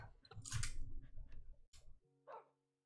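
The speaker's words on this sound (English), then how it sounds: "that dog doesn't like the other dogs anymore" A dog in the game Minecraft gives a few yips and whimpers amid rustling, chewing-like noises, moderately close, ending in a short final yelp before silence.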